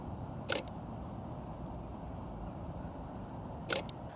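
Two sharp camera shutter clicks, one early and one near the end, spaced about three seconds apart over a low steady background rumble.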